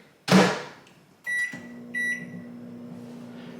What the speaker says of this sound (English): Gonna put them in the microwave.